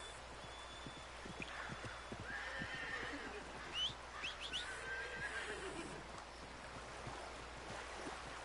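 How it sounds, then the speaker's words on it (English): A horse in Red Dead Redemption 2 trots in with rhythmic hoof clip-clops, then whinnies, over a quiet background of flowing water, with no talking. "I'll have my horse come here."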